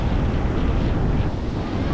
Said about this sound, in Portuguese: E tá ventando.